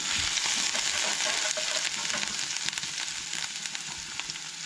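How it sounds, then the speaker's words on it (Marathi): Grated ginger and garlic sizzle in hot oil in a pan for kachori filling, a steady close hiss with faint stirring scrapes and no talking. "आले लसूण जे किसून घेतला ते घालूंक जाय, तेज्या मागीर हे मातशें हलकेशें परतून घेयात"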